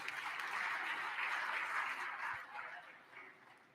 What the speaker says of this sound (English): And Brittany Thornton, y'all give him a round of applause.